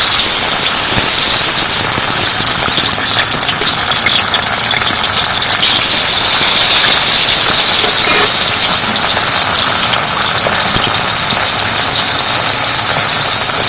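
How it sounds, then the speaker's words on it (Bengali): Chopped tomato sizzles loudly in hot oil in a pan while a bean mash is cooked. The hiss is dense, close and unbroken throughout. "এখানে কিন্তু একটা টমেটো কেটে নিয়েছি আর এটা তেলের মধ্যে দিয়ে দেবো"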